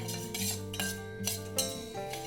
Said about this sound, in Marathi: हे आपल्याला सतत ढवळत राहणं आवश्यक आहे साखर पूर्ण विरगळेपर्यंत